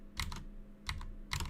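Three quick bursts of typing on a computer keyboard, close and fairly quiet, evenly spaced clusters of clicks over faint background hum.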